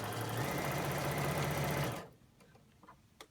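A sewing machine runs steadily, stitching fabric for a scrub hat, for about two seconds, then stops abruptly, leaving faint handling clicks in a quiet room.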